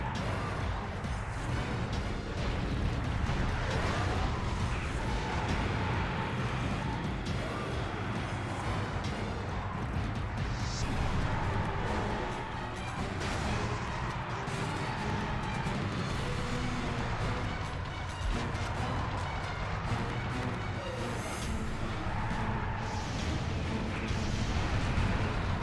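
Vehicle weapons firing and explosions in Twisted Metal: Black, a continuous dense barrage of gunfire, blasts and crashing metal with a roaring engine bed, loud and unbroken throughout.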